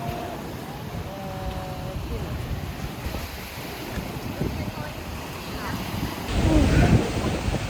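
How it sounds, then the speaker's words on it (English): Waves washing onto a beach in rural Vietnam, with wind buffeting the microphone and a louder surge of surf near the end. People talk in the background. "We made it out to the beach."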